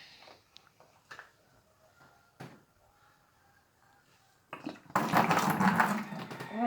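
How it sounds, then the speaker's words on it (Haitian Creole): Water is poured out of a container during liquid soap making: a few soft knocks and clatters, then a loud, close gushing pour that runs to the end. "Je vais vider l'eau."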